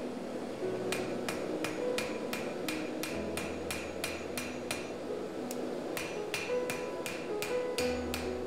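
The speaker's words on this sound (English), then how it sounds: "the next step is to forge in the start of the bevel, which will really create the knife shape." Steady rhythmic hammer blows on a small steel knife being forged at the bevel, bright ringing metallic strikes in quick even succession, each followed by a lighter bounce tap, with no talk.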